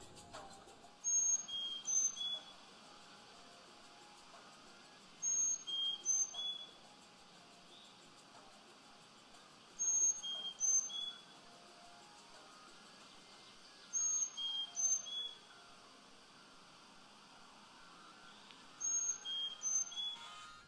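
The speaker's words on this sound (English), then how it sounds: "the Carolina chickadee is going to look and sound like this" A Carolina chickadee repeats a short high whistled call five times at even intervals of about four seconds, clear and isolated against a quiet background.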